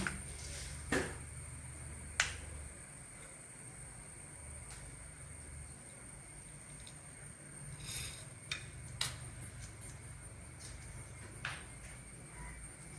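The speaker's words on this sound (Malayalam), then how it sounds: "വെളിച്ചെണ്ണയിൽ കടുക് പൊട്ടി തുടങ്ങുമ്പോൾ ഉഴുന്ന് പരിപ്പിടുക" Mustard seeds splutter in hot coconut oil, giving a handful of sharp, scattered pops over a quiet, steady low hum.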